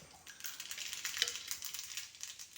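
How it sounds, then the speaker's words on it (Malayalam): Mustard seeds crackle and pop in hot oil, a quiet fizzing sizzle with irregular little spits and bursts, no voices. "ചട്ടി അടുപ്പത്ത് വെച്ച് എണ്ണ അഴിച്ച് കടുവ് ഇട്ടിട്ടുണ്ട്"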